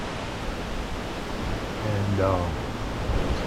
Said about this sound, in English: the wind is blowing up against the front of the house